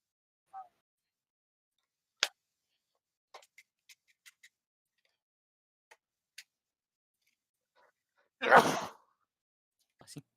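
A single loud sneeze bursts out near the end of a quiet stretch, preceded by scattered small clicks and soft ticks, close to the listener.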